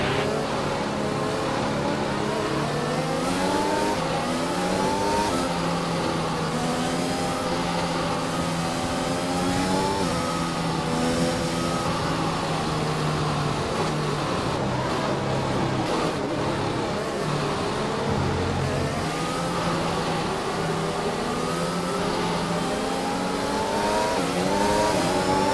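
Race car engines in a racing game set at Bahrain, a field of cars accelerating together with layered rising and falling engine whines, loud and continuous throughout with no voices.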